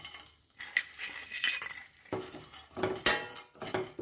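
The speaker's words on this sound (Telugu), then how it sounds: "ఇప్పుడు జీడిపప్పు వేస్తున్నాను బాదం పప్పు కూడా వేసేస్తున్నాను" Chopped cashews and almonds tumble into a pan for a dry fruit laddu, giving scattered clinks, scrapes and rattles of a spoon against metal in quick, uneven bursts, close and fairly clear with no talking.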